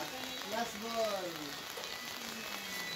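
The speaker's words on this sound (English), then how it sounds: "It's raining here." Steady, hissing rain falls at a hillside camp near Mount Matutum in Tupi, South Cotabato, while a voice speaks briefly and faintly over the patter.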